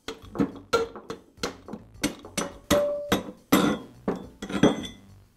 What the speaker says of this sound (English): I'll use my rubber mallet to tap the spindle away from the quill